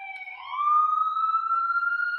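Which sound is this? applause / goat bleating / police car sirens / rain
police car sirens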